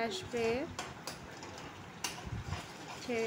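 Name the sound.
stirring spices into oil in a pan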